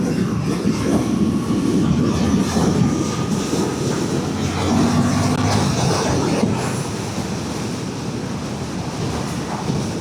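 Wind roars steadily past a rider on a 2025 Suzuki GSX-8TT motorcycle cruising at 60 on dry country roads, a constant loud broadband rush mixed with engine drone and no speech.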